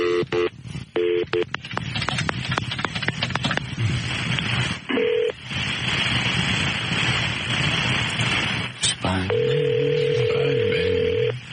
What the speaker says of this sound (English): Let me try her cell phone.